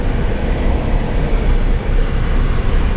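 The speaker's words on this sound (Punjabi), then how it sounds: "ਇੱਥੇ ਆਪਣੀ ਆਹ ਰੇਲ ਗੱਡੀ ਆਉਂਦੀ ਹੁੰਦੀ ਆ" A train on a railway near a trucking yard, heard as a loud, continuous broadband rumble and roar that holds steady throughout.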